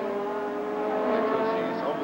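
Formula One race cars at the 1985 Belgian Grand Prix produce a steady high-pitched engine whine, moderately loud and sustained, with a commentator talking over it.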